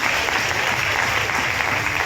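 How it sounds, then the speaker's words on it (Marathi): A church congregation applauding together at a New Year service, a dense, steady burst of clapping that fills the space throughout. "जोरदार टाळ्या वाजवूया आपण"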